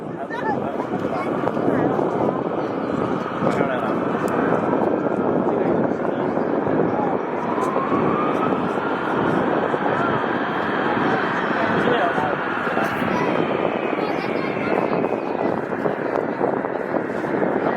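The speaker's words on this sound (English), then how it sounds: "That is truly the sound of freedom." An F-15 Eagle fighter jet flies a demonstration at the Dover Air Force Base airshow in Delaware, its loud, continuous roar rising and shifting in pitch as it passes, with wind buffeting the microphone throughout.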